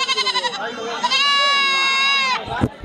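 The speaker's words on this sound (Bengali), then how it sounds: "দেখুন ছোট্ট বাবুটি বাবার সাথে ছাগল নিয়ে আসছে" A goat at a livestock market bleats loudly nearby, a long wavering cry after a few shorter stuttering calls, with brief rustling at the end.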